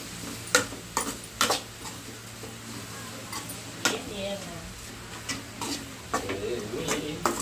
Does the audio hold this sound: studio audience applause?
no